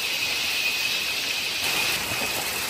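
Heavy evening rain at a resort in Sakleshpura, a dense, steady hiss of downpour close by with a faint high whistle of birds or insects running through it, and no voices.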